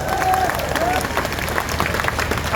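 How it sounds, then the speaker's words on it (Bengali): A large crowd at a political rally in Madhabpur claps, a dense, steady patter of applause with a brief whistle, heard from within the gathering and lasting throughout. "ওনার জন্য একটা হাততালি"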